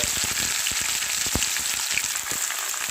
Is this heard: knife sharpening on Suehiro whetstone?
no